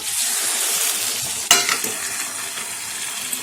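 Sambar poured over a hot stone tempering sizzles steadily with a hissing fry, a brief clink of a utensil against the pot cutting through midway.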